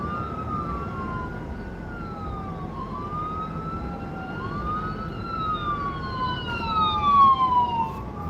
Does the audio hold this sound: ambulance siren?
yes